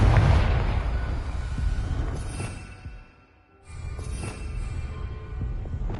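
Confringo blasting spell going off in Hogwarts Legacy on PS5, a loud rumbling burst with deep booming low end, dipping briefly into near quiet before a second swelling blast and crackling debris.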